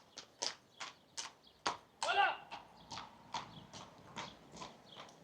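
Steady clip-clop of horse hooves on a hard surface, evenly spaced footfalls passing fairly close.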